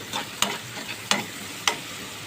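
Something is sautéed in a little too much oil in a pan for an Idukki-style home curry: a steady sizzle, broken by three sharp scraping clicks as the spoon stirs. No one speaks.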